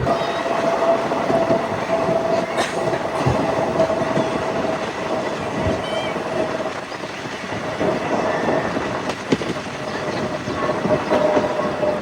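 A train pulling into Jamnagar station rolls along with a steady rumble and rhythmic clatter of wheels over rail joints, occasional squeals and clanks, heard from on board.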